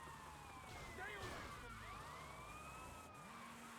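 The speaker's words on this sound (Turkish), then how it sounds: "Şunu bir sireni kapatalım." Police car siren in GTA Vice City, a wailing tone sweeping up and down through the clip over a steady rumble of traffic and engine noise, moderately loud.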